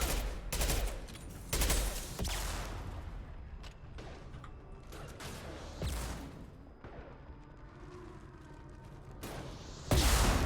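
Gunfire in the video game Mass Effect 2: loud bursts of shots come in separate volleys, with quieter crackling and battle noise between them and a final heavy burst at the end.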